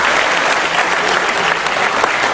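Dense, steady applause fills an anti-corruption discussion forum as the whole audience claps together. The sound is loud and continuous for a few seconds.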